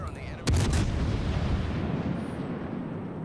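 A naval gun salvo in World of Warships, firing as a single loud, close boom with a sharp burst followed by a long rumbling decay and a steady low battle drone beneath.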